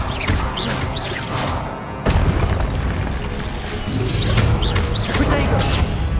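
Fiery spell blasts from the Confringo curse in Hogwarts Legacy go off as repeated loud booms and crackling bursts across a busy magic battle, near and forceful, with layered combat noise throughout.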